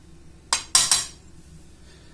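Utensil clinking against a pan while stirring spices and spinach filling: three sharp metallic clinks close together near the start, then quiet, with one faint tap at the end.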